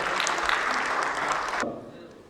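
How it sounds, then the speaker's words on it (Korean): An audience applauds at a school sports awards ceremony in a hall, dense clapping for about a second and a half that stops abruptly and leaves quiet room tone. "예, 큰 박수 부탁드리겠습니다."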